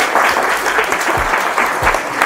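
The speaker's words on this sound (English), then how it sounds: "Please clap for her." Students at a high school personal development session clap steadily and fairly loudly for a classmate, a continuous close patter of many hands.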